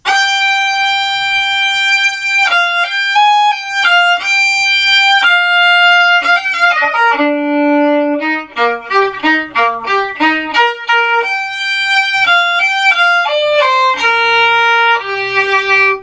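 A slow, sustained violin melody, each bowed note held long with rich overtones, played alone and clearly without any talking.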